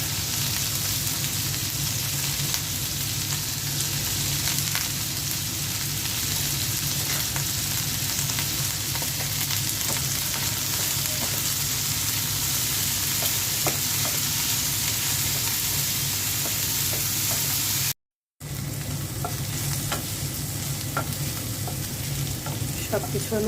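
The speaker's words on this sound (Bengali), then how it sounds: "সব কিছু আমি ভালো করে ভেজে নিলাম।" Prawn heads fry with salt and onion leaves in a pan, giving a constant close sizzle with stirring scrapes throughout and a short break near the end before the frying resumes.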